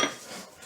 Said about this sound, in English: Alright, time to take the lid off